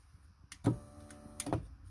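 An electric sunroof motor from a 2006 Mini Cooper drives a panoramic sunroof, giving two short whirring bursts with a brief pause between them in a quiet setting.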